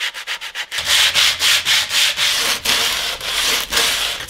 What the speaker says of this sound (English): I was left with the painful task of sanding them off